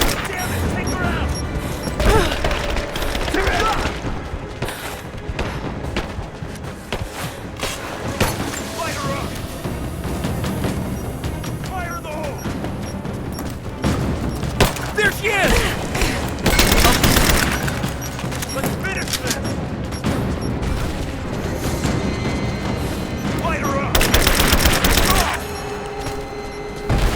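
Sustained shootout in Rise of the Tomb Raider, with dense, continuous automatic gunfire and several heavier bursts and blasts, layered with shouting voices in the thick of combat.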